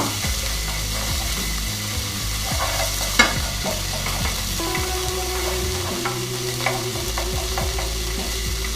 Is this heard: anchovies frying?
yes